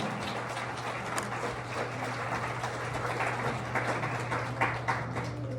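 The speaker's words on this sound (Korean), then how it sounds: "박수 부탁드리겠습니다" Wedding guests clap at a ceremony after the couple's bow, a steady crowd of hands heard over a constant low hum from the hall's sound system.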